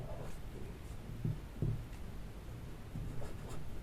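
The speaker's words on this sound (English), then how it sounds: "we connect the letters first and we write one word" Quiet pen or pencil strokes while Arabic letters are written by hand and joined into a word, with a few soft scratching taps over a steady low room hum.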